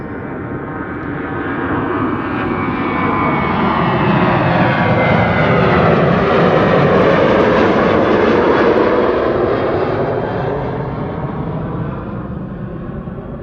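A jet airliner departing Amsterdam Schiphol Airport on a sunny winter day roars loudly and steadily, swelling as it passes close and then fading slowly, heard alone without voices.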